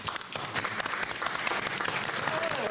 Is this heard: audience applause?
yes